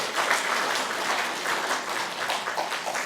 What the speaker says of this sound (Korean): 자, 여자들한테 한번 박수 한번 쳐줘 보세요.